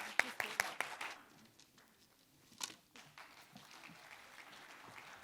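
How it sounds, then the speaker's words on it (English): A few faint, scattered claps from the audience at a Bharatanatyam arangetram, given for the photo and video team, fade quickly into quiet room noise with a stray knock or two. "A big round of applause for Jay ji and Karthik ji back there."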